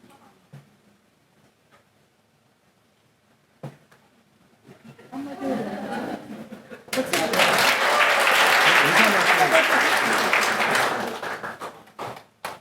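A church congregation applauds in welcome during a worship service. Scattered claps build into loud, sustained applause that swells for several seconds and then fades, with speech heard before it.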